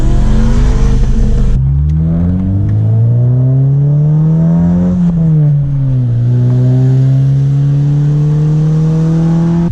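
A Subaru WRX engine revs loudly nearby, climbing steadily in pitch, dipping briefly, then holding a strong, even drone, with no voices over it.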